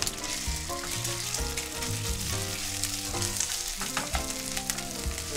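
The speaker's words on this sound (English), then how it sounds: "And you can hear that nice little sizzle." Chicken pieces sizzling in peanut oil in a stir-fry pan, a steady dense crackling hiss with small pops, continuous throughout with no talking.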